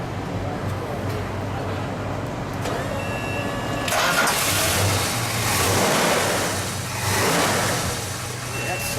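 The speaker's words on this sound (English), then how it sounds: "So let's get in the car and start it." A 1970 Plymouth Superbird's 440 engine cranks and catches, then revs up loudly and settles into a rumbling idle, with voices talking over it.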